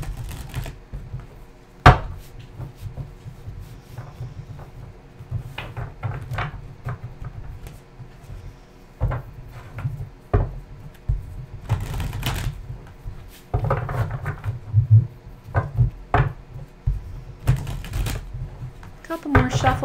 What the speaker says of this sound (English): Couple more shuffles, we'll be ready to go.